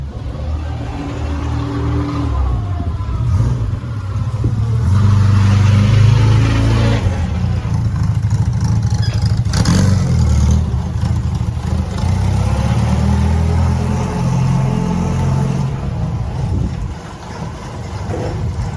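A 1967 MG Midget sports car engine runs close and loud, idling with a rough burble and rising into several revs before settling back down.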